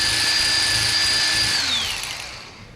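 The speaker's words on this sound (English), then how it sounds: "power tools make everything easy" A power tool whines steadily at a high pitch during motor assembly, close and loud, then slows and winds down toward the end.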